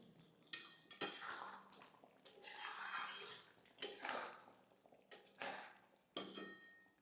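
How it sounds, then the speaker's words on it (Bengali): A spoon scrapes and clinks in a pot as roasted ground spices are stirred into a creamy cauliflower rezala curry, with intermittent rasping strokes and sharp metallic taps, close and quiet, no talking. "এবার এটাকে নেড়ে দেবো।"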